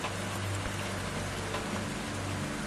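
Steady rain falls outside in Alexander, North Carolina, a dense, even hiss of drops hitting surfaces with no pauses, heard from a doorway.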